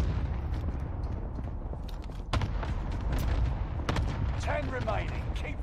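Cluster strike explosions land out of range in the video game Warzone, giving a dense run of distant booms and rapid crackling blasts under steady battle noise.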